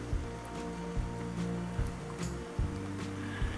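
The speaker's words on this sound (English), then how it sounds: "the water starts right up in here and comes across" A small creek runs down a hillside in a steady, broad rush of flowing water with low gurgling, heard up close and alone with no talk.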